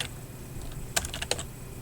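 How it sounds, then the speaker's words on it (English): A handful of quick keystrokes on a computer keyboard while typing in a word processor, soft clicks bunched near the middle of a quiet room. "All right, so I'll start typing"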